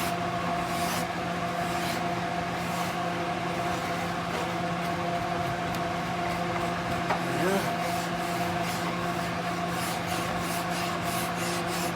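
Sandpaper rubs back and forth over a carved wooden guitar neck in a steady, close, rasping scrape with faint rhythmic strokes and no talking.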